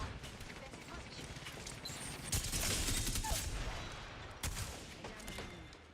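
Video game gunfire rattles in quick automatic bursts at moderate distance. Mechanical clicks and reload sounds mix in, and a voice speaks quietly in the background.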